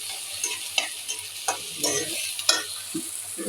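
Onions and green chillies frying in oil, a soft continuous sizzle broken by intermittent stirring scrapes and light clinks, close and alone.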